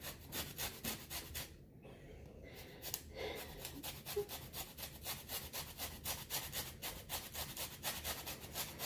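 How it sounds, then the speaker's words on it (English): A lemon scraped against a grater for zest, a close, steady back-and-forth rasping in even quick strokes with a brief pause partway through, fairly quiet in a home kitchen. "Trying to get a good amount of lemon zest"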